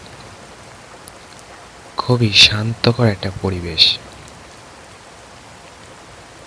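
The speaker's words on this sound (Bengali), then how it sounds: "বর্ষার সময় বাইরে অঝড়ে বৃষ্টি পড়ছে।" Heavy monsoon rain pours outside in a steady, even hiss that continues throughout, while someone speaks briefly over it.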